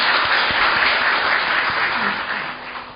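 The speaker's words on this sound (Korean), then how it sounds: "다시 한번 큰 박수 부탁드립니다." An audience gives sustained applause at a testimony event on school meal workers' illnesses. The clapping is dense and loud, then slowly fades toward the end.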